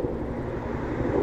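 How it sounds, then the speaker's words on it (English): Helicopter flying in Arma 3, a steady droning engine and rotor roar, moderately loud and constant without a break, with faint wind noise mixed in. "That's the helicopter"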